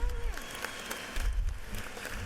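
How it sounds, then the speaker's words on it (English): Legislators in a state House chamber applaud during a session, a moderate, sustained patter of many hands heard from a distance, with low rumbling room noise. "give her a big round of applause"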